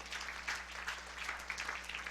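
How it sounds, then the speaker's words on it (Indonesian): A church congregation applauding during a sermon, with a short burst of faint, distant clapping at a steady pace and no clear speech. "Kasih tepuk tangan yang meriah buat Tuhan."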